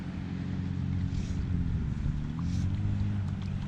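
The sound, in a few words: wind blowing across a pond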